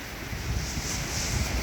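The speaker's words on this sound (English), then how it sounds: "that was a solid 40-mile-per-hour wind gust right there" A strong wind gust during a heavy thunderstorm in southeastern Pennsylvania roars steadily and loudly right at the microphone for a brief moment.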